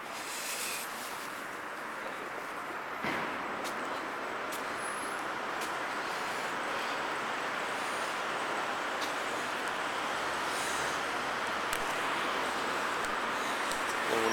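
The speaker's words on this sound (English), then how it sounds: "quite empty. Train station at night. There's no one about." An empty train station at night, a cold, deserted space filled with a steady low ambient hum and distant rumble, with a soft thump and faint scattered clicks, no voices present.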